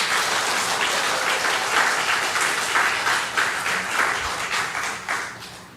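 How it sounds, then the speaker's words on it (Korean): A church congregation applauds steadily in a sanctuary, a dense wash of many hands clapping at an even level that begins to thin and fade toward the end. "여러분, 이 가능성들에게 여러분들이 한번 박수를 주시면 어떨까요?"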